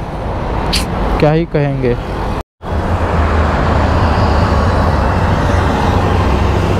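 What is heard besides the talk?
heavy road traffic noise in Delhi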